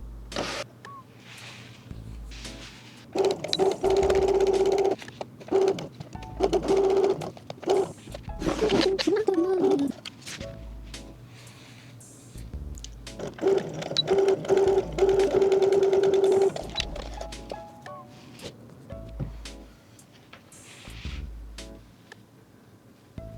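A sewing machine stitches leather or ribbon antennae for a craft project, running in two long, fast, whirring bursts separated by quiet gaps, with brief short runs and soft handling clicks between them.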